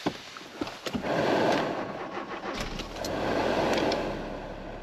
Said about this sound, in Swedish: då gör vi ett försök att starta bilen igen då